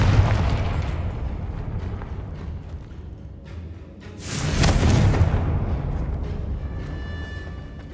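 A Confringo explosion spell goes off in the video game Hogwarts Legacy: a loud burst halfway through over a rumbling backdrop of game sounds, followed by a lingering ringing tone.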